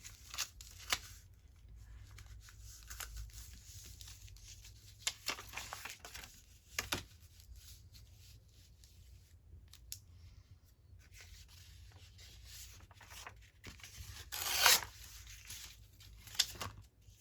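Paper folded down for an envelope, close crinkling, rubbing and creasing sounds in scattered bursts with a louder rustle near the end, no speech.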